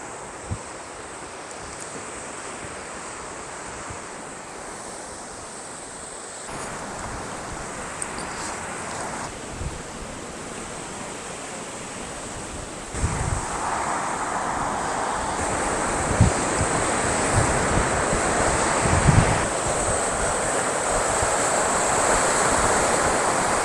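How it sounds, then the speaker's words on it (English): Ocean waves wash onto the shore, the surf swelling louder over time, with wind buffeting the microphone throughout. "Ooh, look at them waves."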